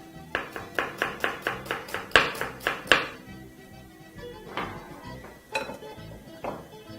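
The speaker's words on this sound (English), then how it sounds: "we're also going to chop up our white onion into half moon sizes" A knife slices a white onion into half-moon pieces on a cutting board. Quick, evenly spaced chops fall in a steady run of about a dozen, followed by a few slower, scattered cuts.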